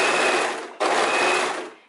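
Sewing machine stitching garment seams in two close, steady runs separated by a brief stop, near and fairly loud, with no talking.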